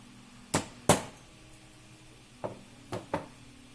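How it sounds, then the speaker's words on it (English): Hammer blows drive a nut into a LongMill V2 gantry part during assembly, two sharp close knocks followed after a pause by three lighter taps, with no talking. "it'll allow me to support it from all sides to hammer it more effectively"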